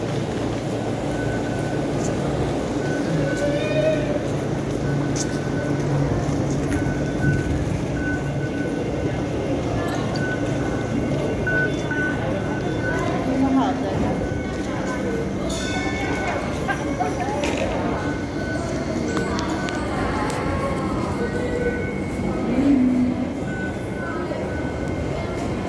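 An MTR train at Tuen Mun station in Hong Kong gives a steady, loud rumble and rolling hum with brief squeals, set in busy platform ambience, while people talk over it throughout.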